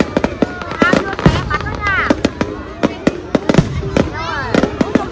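New Year's Eve fireworks in Hai Phong burst in rapid, irregular cracks and bangs, close and loud, with a crowd chattering and shouting throughout.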